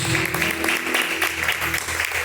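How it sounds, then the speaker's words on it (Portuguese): A church congregation claps joyfully for Jesus during a Portuguese-language live worship service, a brief burst of dense clapping with a voice murmuring underneath. "e as palmas bem alegres para Jesus"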